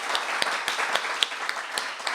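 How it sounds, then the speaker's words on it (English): An audience at a live storytelling evening breaks into a round of applause, a steady wash of many hands clapping with a few sharper individual claps standing out, with no voices. "if we could give her a big round of applause"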